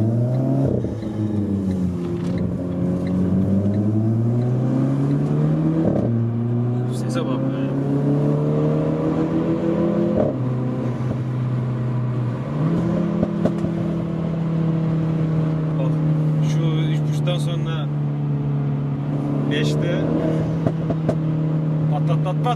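Renault Clio 4 RS hatchback engine revving hard through several rising and falling sweeps, with sharp exhaust pops and crackles scattered over the loud, close engine note.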